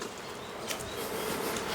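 Honeybees buzzing at a hive, a soft continuous swarm hum with a few bees whining past nearby, no talking.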